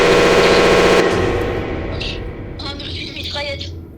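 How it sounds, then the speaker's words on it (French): Rapid machine-gun burst from a FNAF-themed video game, loud and close for about a second, then fading echoes and scattered game effects while people talk. "une mitraillette"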